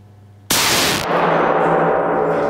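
A single loud shotgun blast from an MP-155 or Armsan A612 during a target sighting-in session: a sharp broadband crack followed by a long rolling reverberant tail, with no talk.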